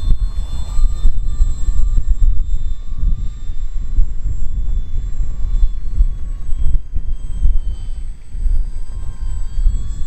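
Maiden flight of a 3D printed RC speed glider, a steady airy whoosh and faint high tonal whine passing close in wind, with strong low wind rumble throughout and no talk.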